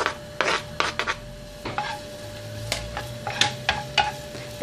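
Chopped green peppers and a clove of garlic sauté in a frying pan, with a low sizzle under intermittent scraping and tapping of a utensil stirring, close and fairly quiet, with no talking.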